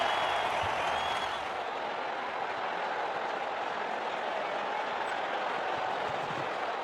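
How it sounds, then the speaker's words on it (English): A crowd roars in the WCC3 cricket video game as a batsman hits a six. The cheering is loud, steady and continuous, with no talk over it. "Crowd's gone mad."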